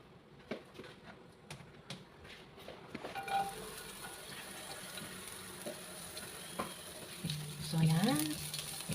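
Garlic sautés in a pan with a quiet sizzle, punctuated by scattered clicks and utensil taps, then a louder stirring and scraping toward the end.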